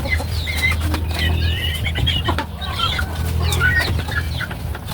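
Chickens cluck steadily inside a coop on a rural province farm, with several birds calling close by in an overlapping, busy chatter and the occasional flutter, and no talk.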